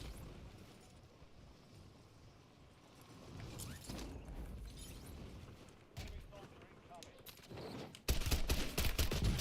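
Gunfire in a first-person shooter game, faint at first with scattered shots and mechanical clatter, then louder bursts toward the end under quiet talk.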